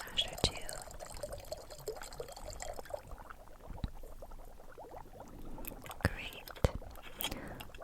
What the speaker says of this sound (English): now let me just uncap this right here, and we'll add a splash or two.